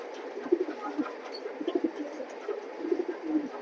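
Racing pigeons in a loft give soft, low repeated coos, a pair of racers murmuring in short rhythmic bursts, fairly close and gentle, with no voices over them.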